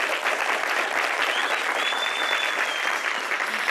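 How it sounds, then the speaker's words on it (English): Enthusiastic applause from a crowd fills the whole stretch, dense and steady with no pauses. "let's give them a round of applause"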